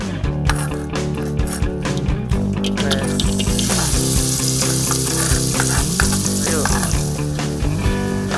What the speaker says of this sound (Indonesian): Panaskan minyak, tumis bumbu hingga wangi.